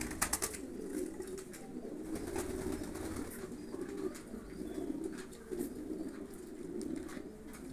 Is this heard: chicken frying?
no